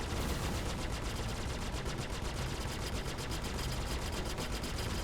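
Rapid ship gunfire in the Star Citizen space combat game, a dense, continuous barrage of loud automatic shots filling the whole stretch at steady intensity with no talk.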